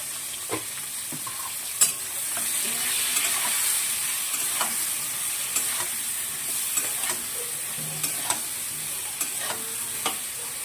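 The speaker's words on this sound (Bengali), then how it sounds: "সবজিটা ভাজা ভাজা করে দিয়ে দিলাম এখানে" Vegetables sizzle and fry steadily in a pan with salt and turmeric, a constant crackling hiss with scattered sharp clicks of a utensil scraping and stirring, close by with no talking.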